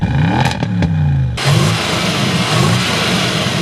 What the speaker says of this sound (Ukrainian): Але тут є 4-літровий прекрасний бітурбований двигун.